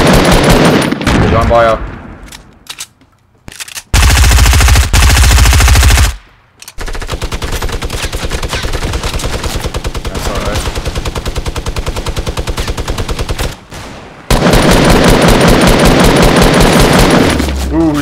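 Rainbow Six Siege gunfire, loud close bursts of rapid automatic fire broken by brief pauses, with a player's voice speaking briefly over the shooting.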